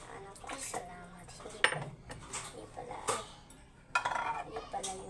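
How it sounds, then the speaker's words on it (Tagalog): Dishes, plates and cutlery clinking and clattering while being washed and rinsed at a sink, irregular near clanks with running water, and a voice talking over it. "Maghugas ka ng pinggan."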